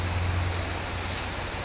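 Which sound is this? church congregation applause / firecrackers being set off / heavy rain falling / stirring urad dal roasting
heavy rain falling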